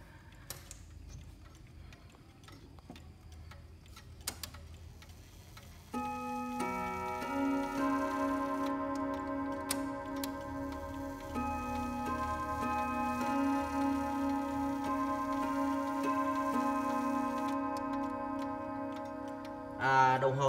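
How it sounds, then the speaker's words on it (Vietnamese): An antique clock with a bronze gong and white movement strikes its chime, ringing tones entering after a quiet ticking stretch and layering into a sustained, resonant sequence that carries on to the end. "Em cho các anh nghe thử cái tiếng chuông của chiếc đồng hồ này một chút nhé."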